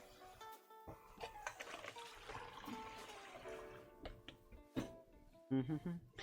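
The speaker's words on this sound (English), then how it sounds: "I'm just going to pour this straight into the colander." Water poured into a colander after rinsing salted food in a kitchen, a faint trickling and splashing with a few louder gurgles near the end, heard quietly with little else around it.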